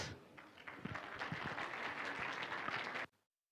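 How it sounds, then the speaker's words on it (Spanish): Audience applause at an evangelistic campaign event, welcoming a tambourine dance group: dense, steady clapping that sustains for about three seconds, with a few louder individual claps, then cuts off abruptly into silence. "Vamos a recibirlo con fuertes aplausos"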